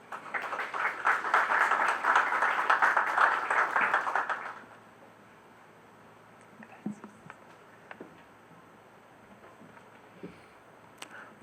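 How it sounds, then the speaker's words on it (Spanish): An audience applauds to welcome a speaker at a university book launch, with dense clapping for about four seconds before it fades to scattered claps and a quiet room. "Por favor, recibámosla con un aplauso."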